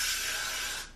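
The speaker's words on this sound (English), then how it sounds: "the curls aren't holding, so I'm gonna have to put some hairspray." A close, loud burst of hairspray hisses onto curled hair, a single continuous spray that fades out after about a second.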